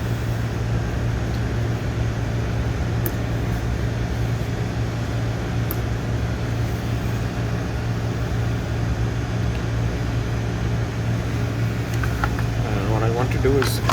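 A portable lithium-ion jump starter's built-in air pump hums steadily and loudly while inflating a car tire, with a voice coming in near the end.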